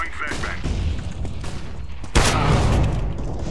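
A flashbang grenade is thrown in CS:GO and goes off partway through with a sudden loud bang and a sustained ringing wash afterward, over game ambience.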